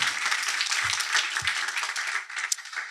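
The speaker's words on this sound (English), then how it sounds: "would you give all of these companies a bit of a round of applause" Short burst of audience applause at a fellowship demo day, dense steady clapping that tapers off over a few seconds.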